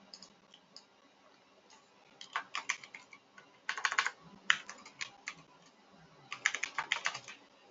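Typing on a computer keyboard: irregular bursts of rapid, close key clicks separated by short pauses, fairly faint and with no speech over them.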